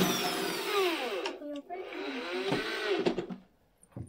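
A power drill drives screws into a plastic Bisleri bottle for a homemade crab trap, the motor whining loud and close in several rising and falling bursts before stopping.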